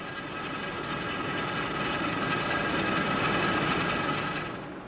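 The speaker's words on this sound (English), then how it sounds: "Here we're machining one of the slideways" Milling machine cutting a cast-iron lathe bed slideway, a steady dense roar of machining with tonal whine layered over it, loud and continuous throughout and easing off at the end; no voices.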